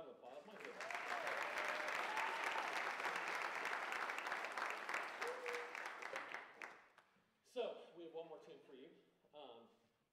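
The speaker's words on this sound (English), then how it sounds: "Can we give another round of applause?" A concert audience at a college jazz program applauds loudly and steadily for several seconds, then the clapping thins out and gives way to someone talking.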